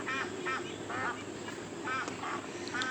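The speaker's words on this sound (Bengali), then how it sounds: "এখানে আমার 50টা হাঁস আছে। বেলজিয়াম হাঁস 50টা আছে, আর চীনা হাঁস আছে আপনার 13টা" Belgian and Chinese ducks on a Pekin duck farm quack in short, repeated bursts, several calls close together over a steady farmyard background.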